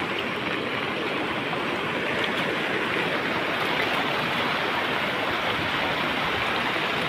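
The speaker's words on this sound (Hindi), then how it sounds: "देख सकते हो पानी का रौद्र रूप।" Floodwater rushing after extremely heavy rain in Pune, Maharashtra, a loud, steady roar of churning water with no letup, filling the whole scene alone.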